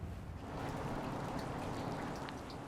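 Steady rain falls on the University of Idaho campus as a continuous, even hiss of drops that holds at a moderate level throughout, with no voices.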